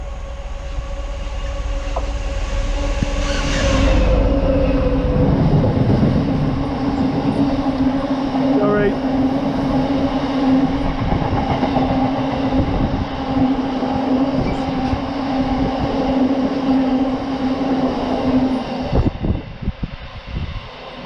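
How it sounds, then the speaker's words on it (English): Freightliner freight train passing through Wellingborough railway station, a loud sustained rumble and drone of wagons rolling by for about twenty seconds, with a steady hum and wheel noise that fades away at the very end. "that was just a freight liner"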